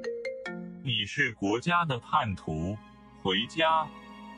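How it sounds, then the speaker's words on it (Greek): A short electronic ringtone chimes at the start, then someone speaks at length in a calm narrating voice. "Ο ήχος από το τηλέφωνο με επαναφέρει στην πραγματικότητα."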